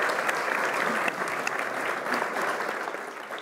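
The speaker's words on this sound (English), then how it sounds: "Big round of applause." An audience applauds steadily after a biotech panel discussion on RNA and gene therapeutics, producing dense, sustained clapping that fills the room with no voices over it.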